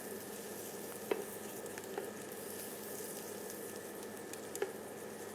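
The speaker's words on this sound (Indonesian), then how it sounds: "gorengnya pakai film margarin atau film prestis enak deh, tambah wangi" Slices of galantine fry in margarine with a steady, quiet sizzle and a few sharp pops and crackles, heard alone without talk.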